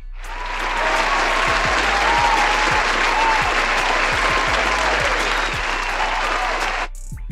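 A sustained round of applause from a crowd, dense and even from start to finish with a brief dip near the end, with no voices over it.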